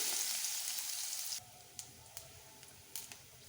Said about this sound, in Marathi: मोहरी जिरं लसण कांदा चांगलं परतून घेऊ